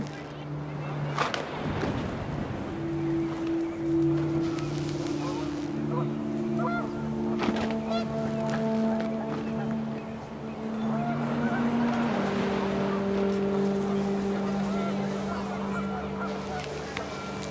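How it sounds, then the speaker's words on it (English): Geese honk repeatedly in the What Remains of Edith Finch video game, a flurry of loud, overlapping honks and calls rising and falling over a windy background, with some sustained tonal game music underneath. "panicked geese appeared and quickly went"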